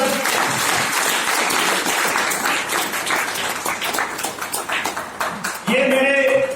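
An audience claps loudly and steadily in a meeting hall, a dense wash of applause welcoming a guest, with voices mixed in and a brief tonal chime near the end.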